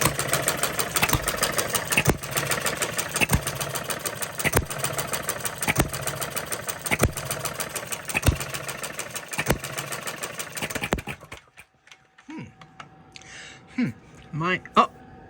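A restored Coles engine runs steadily with a rapid, even mechanical pulse for about eleven seconds, then cuts out, leaving quiet with a few scattered voices.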